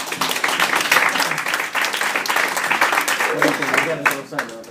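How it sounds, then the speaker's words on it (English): A crowd claps energetically as three helpers come on stage, loud continuous applause that tapers slightly at the end, with voices audible under the clapping. "Give them a big round of applause, everybody."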